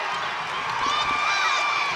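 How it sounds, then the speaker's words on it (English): A crowd cheers and shouts steadily at a high school wrestling match in a field house, a loud, continuous roar of fans and kids that swells slightly toward the end. "Crowd's rocking."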